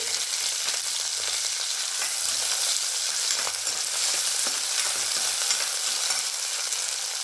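Potato, beans and cauliflower fry in oil for a vegetable sabji with a steady, dense sizzle. Faint stirring scrapes run under it, and no one speaks.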